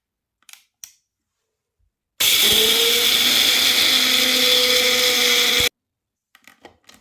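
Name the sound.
blender blending spices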